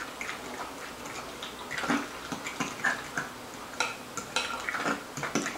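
Guacamole ingredients are stirred together in a bowl, producing soft, wet squelching and irregular scraping taps of a utensil against the bowl, fairly quiet and close.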